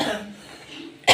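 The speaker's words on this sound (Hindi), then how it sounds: "खांसी हो गई छोंक से।" A single sharp cough, set off by the fumes of dal being tempered, bursts out at the end, loud and close, after a stretch of quiet kitchen background.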